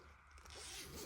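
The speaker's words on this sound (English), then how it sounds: "You basically just unzip." A zipper is pulled open in one steady, close, quiet stroke lasting about a second, heard on its own in a room where newborn sleep gear is being shown.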